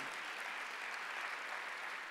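Steady applause from a church congregation during a Sunday worship service, a dense even patter of clapping sustained throughout at moderate distance.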